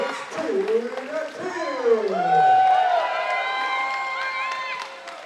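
Crowd cheering and whooping in an indoor arena during a fast-draw shooting competition final, a sustained swell of voices with a few rising shouts, loud and close throughout.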